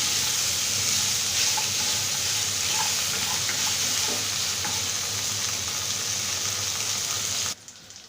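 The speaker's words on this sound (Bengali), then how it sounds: "এবার আমরা এটাকে ভেজে নেব" Beef being fried in a pan for long-term preservation gives off a steady, loud sizzle with occasional stirring scrapes, continuing for several seconds before dropping off abruptly near the end.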